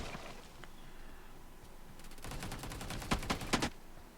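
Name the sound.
gunfire in BGMI/Free Fire mobile video game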